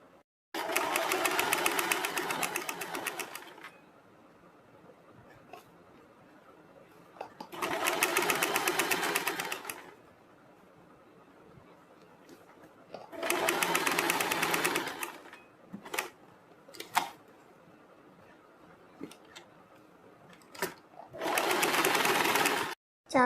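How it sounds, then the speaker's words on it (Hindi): Sewing machine stitching along a folded fabric neckline, loud rapid bursts of stitching in four or five runs of a few seconds each, separated by quiet pauses with faint handling clicks. "इसके ऊपर एक सिलाई लगाएंगे।"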